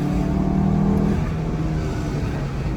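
A Fiat Albea 1.4 with a crankshaft and camshaft position sensor fault drives in second gear, its engine giving a steady, loud, low drone heard from close by, with no talking.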